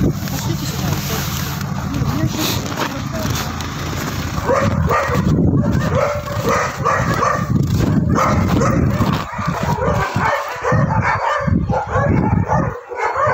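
Dogs barking at a dog shelter, several barks and yips scattered through a dense, noisy mix with people talking nearby.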